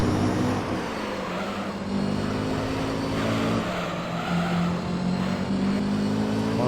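Race car engine in Gran Turismo 3, the car handling loosely while chasing a Supra: a loud, continuous engine drone with shifting pitch as revs rise and fall, steady and close throughout.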